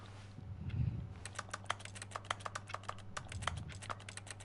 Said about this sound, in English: Typing on my keyboard.